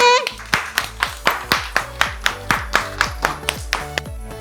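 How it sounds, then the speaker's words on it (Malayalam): Young children at an anganwadi, a village childcare centre in Kerala, clap together in a steady, even rhythm of about a dozen loud claps. A brief voice is heard at the start. "ഒരു ക്ലാപ്പ്"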